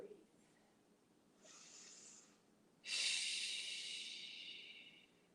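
Slow, deep breaths during a kneeling camel yoga pose, a soft inhale followed by a longer, louder airy exhale, close and alone in a quiet room.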